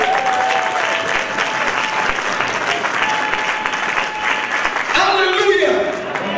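A church congregation breaks into loud, sustained applause and cheering that fills the room for several seconds, dense clapping throughout, with a few voices rising near the end as the noise shifts.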